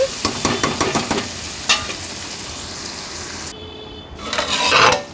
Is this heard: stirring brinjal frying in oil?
yes